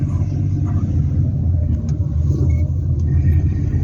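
A car pulls away from the curb on a narrow street during a driving lesson in Turkey, its engine a steady low rumble with a gentle rise as it accelerates, heard from inside the cabin with no voices.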